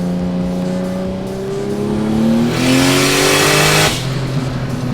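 Turbo V8 Volvo race car accelerating hard at a roll race, its engine note climbing steadily through the gears with a loud rising roar and a brief shift break near the end, close and dominant.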